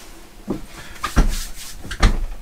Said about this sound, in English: this is the uh, shower door see it's still working just like it did when I installed it in October